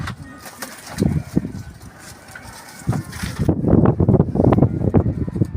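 Pigeons cooing in a loft, several soft low coos in bursts close to the microphone, with wind noise rushing across the mic through the first half.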